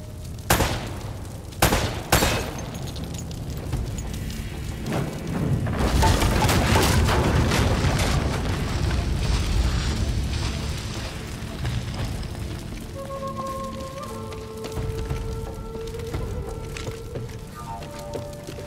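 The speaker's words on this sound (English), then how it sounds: "Try shooting one of those lamps down." Shots ring out as lamps are gunned down in Uncharted: Drake's Fortune, with several sharp cracks followed by heavy booming crashes and a rumbling tail. Short tonal chimes sound near the end.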